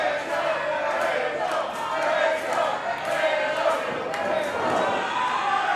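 Fans at a women's wrestling championship match rise into a rumbling cheer behind one wrestler, a steady roar of crowd noise with shouts and scattered claps, loud and continuous through the moment.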